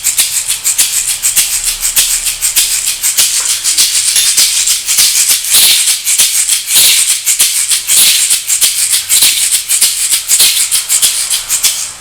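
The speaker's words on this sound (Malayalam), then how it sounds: "എഗ് ഷെയ്ക്കർ." An egg-shaped hand shaker played in quick rhythmic strokes, a crisp bright rattling swish repeating steadily and loudly for about twelve seconds with no voices.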